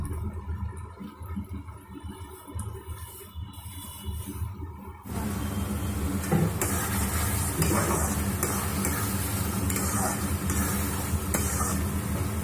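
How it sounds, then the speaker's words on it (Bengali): Chili paneer with tomato sauce and soy sauce is stirred in a hot pan, with a soft scraping stir at first, then a loud, continuous sizzle of frying that fills the rest of the clip. "এটা অল্প কিছুক্ষণ নেড়ে নেব।"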